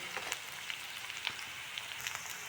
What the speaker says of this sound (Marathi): शेंगदाणे पण छान तेलामध्ये घेऊयात परतून टाकूयात हरभऱ्याची आणि उडदाची डाळ